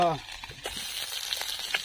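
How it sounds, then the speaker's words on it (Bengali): Fish fries in hot oil on a boat on the Bidyadhari river in the Sundarbans, giving a steady crackling sizzle with a brief tonal sound at the start. "মাছ ভাজা করছি, মাছ ভাজা।"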